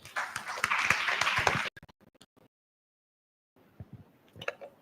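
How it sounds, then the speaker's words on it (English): An audience at a Ministry of Health conference session bursts into loud, dense applause for almost two seconds, then it cuts off abruptly, followed by silence and a few faint scattered claps. "Next round of applause."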